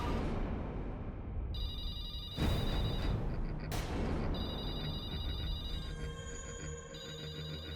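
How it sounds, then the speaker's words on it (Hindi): An old telephone bell rings in repeated bursts inside a house, loud and insistent over a hissing background, with a sharp impact noise early on and no talking. "ये तो उस आत्मा का ही फोन लगता है"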